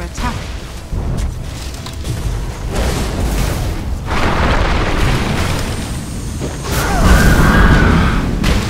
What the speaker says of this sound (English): Radiant's top tower has fallen.